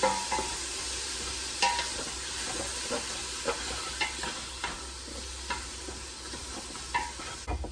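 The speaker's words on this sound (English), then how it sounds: "I just brown it right in the same pot that I'm going to make my chili." Seasoned ground beef browns in the same pot that will hold chili, giving a steady sizzle and frying hiss with scrapes and clacks of stirring at intervals, heard close and alone.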